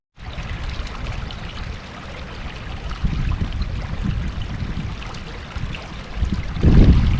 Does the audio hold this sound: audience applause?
no